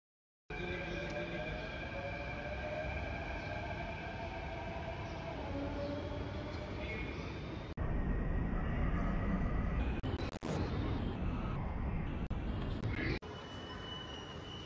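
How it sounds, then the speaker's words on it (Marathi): A Mumbai metro train runs at steady speed, giving a continuous rumble and whine from inside the carriage, with louder rattling bursts and a few sharp clunks partway through, then settling back to a smooth roll. "आपण मेट्रो लाईनला बसलो होतो घाटकोपरवरून"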